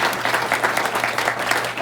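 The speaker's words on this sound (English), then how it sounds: "Please give everyone a round of applause." Steady, dense applause from an audience at a Rotary Club meeting, continuous clapping filling the room without a break.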